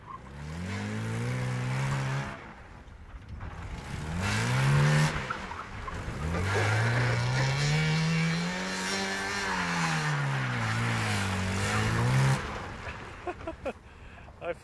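A Honda Civic fitted with snow tires revs and accelerates hard on a dusty track, its engine pitch rising and falling through several long pulls with tire noise, while people talk over it.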